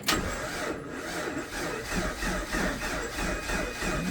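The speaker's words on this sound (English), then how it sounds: "Put another gallon of gas in it and just cranked on it." A Jeep engine cranks over steadily with a rhythmic starter churn while the fuel pump primes, after fresh gas is added and the distributor reconnected; loud, close and unbroken.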